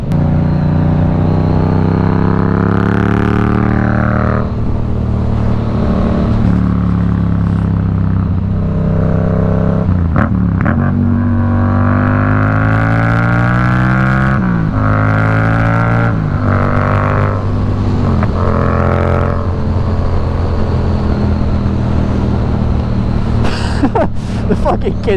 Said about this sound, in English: Oh this bike just shreds.